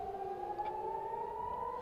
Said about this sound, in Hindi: ये देखिए सायरन बज रहा है